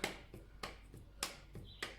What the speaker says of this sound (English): Keep going, keep clapping, keep clapping.